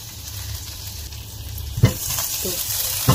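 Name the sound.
shrimp frying in a pan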